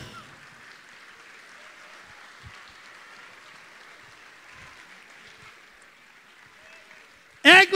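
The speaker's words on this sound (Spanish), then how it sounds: "¡Aplauso!" A steady wash of clapping from a comedy show audience fills the room at moderate volume, ending with a sudden loud burst of a voice at the very end.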